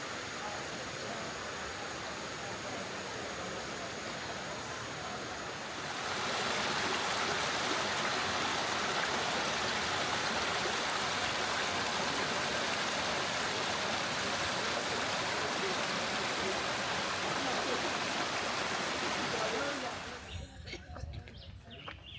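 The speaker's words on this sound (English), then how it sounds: "Feeding the fish in the river. Frenzy going." River water churns and splashes as fish feed in a frenzy during a river cruise on the Amazon, a dense broadband rush that swells louder midway and then cuts off.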